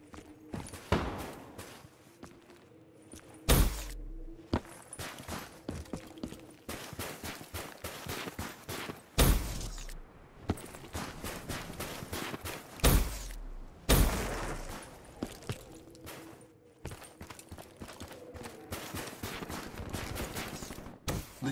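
Video game gunfire crackles in rapid bursts and single loud shots, with heavier booming blasts recurring every few seconds amid brief radio-style voices.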